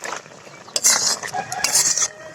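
Bitter gourd curry masala is stirred in a pan over a medium flame, with a metal spoon scraping and clinking against the pan in irregular bursts, close and fairly loud, with a faint sizzle underneath.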